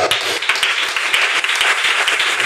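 A church congregation applauds during a worship service, dense rapid clapping filling the moment loud and close, with faint voices mixed in.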